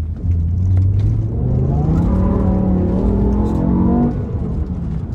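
A BMW M5 E60 with a V10 engine and six-speed manual pulling hard, its loud, smooth engine note rising steadily in pitch for several seconds and then easing off as the car cruises, heard from inside the car.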